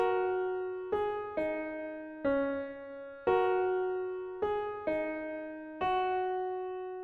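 A solo piano picks out the Minecraft theme melody on the black keys, about eight separate notes, each ringing and fading before the next, with no voices.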